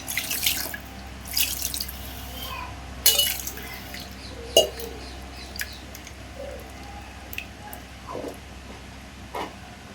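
Water is poured in short, uneven splashes and drips into a pot of fish curry made with shilava fish, fairly quiet against a faint room background.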